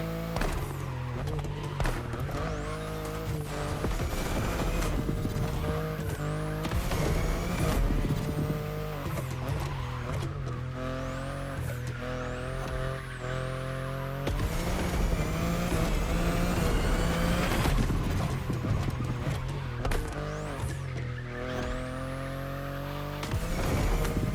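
A race car in the driving game The Crew Motorfest runs a track at sustained engine roar, its pitch rising and falling through gear changes and braking, with occasional tire squeal, loud and continuous throughout, with no talking.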